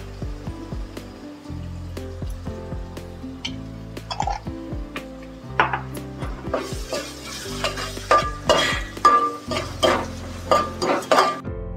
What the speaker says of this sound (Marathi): ढवळून घेते आता चांगलं